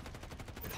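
Rapid automatic gunfire from turrets in Call of Duty hardcore multiplayer, a steady burst of repeated shots at even pace, fairly close, ending in a sharp louder report.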